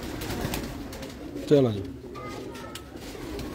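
A pigeon gives a single short, fairly loud coo on a loft rooftop, set against low outdoor ambience, with someone speaking briefly.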